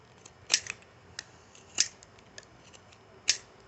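A knife carving scrap wood, with sharp crisp cutting snicks at irregular intervals, close and clear over a quiet background.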